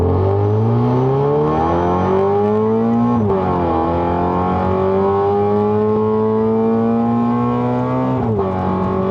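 A remapped, modified Toyota GT-86 GR-S with a six-speed automatic accelerating hard from standstill in Sport mode, engine loud and close, rising in pitch through each gear with two clear upshifts.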